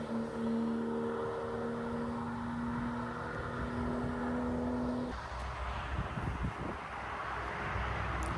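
A Porsche Turbo S on the German Autobahn, a steady loud rush of engine and road noise with a sustained tone that cuts off midway, then broader rumbling wind and traffic noise as it speeds away.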